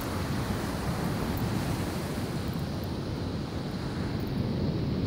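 Ocean surf on a beach at Carlsbad, a steady loud wash of breaking waves with wind buffeting the microphone, continuous and unbroken throughout.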